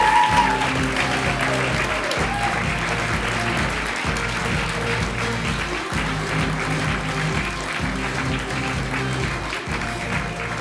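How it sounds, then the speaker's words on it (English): Applause fills the hall at a university teaching awards ceremony, a steady, sustained round of clapping from a seated audience that holds at an even level throughout, with music or background tones underneath. "If we could have a round of applause for him."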